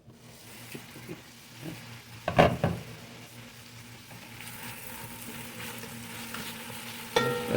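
Onions cooking in a covered pan give a steady soft sizzle, broken by a few louder clatters of stirring or lid contact near the middle and again toward the end.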